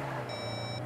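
Voicemail beep from the Saints Row video game: a single steady electronic tone held for about half a second, clean and alone over a low background hum.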